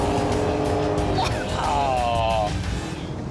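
Grand tourer convertibles, a Mercedes, an Audi and a Maserati, racing on a track: loud engine drone with rising whines through a gear change, tyres squealing, while someone commentates over it.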